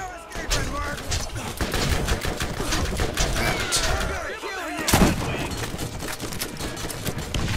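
Enemies fire guns in the video game Borderlands: rapid bursts of shots crackle throughout, with a heavier blast near the middle, while someone talks over the combat.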